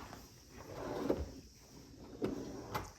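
A drawer in a remodeled home kitchen slides and knocks shut, with a few faint, soft clunks spread across a quiet room and no voices.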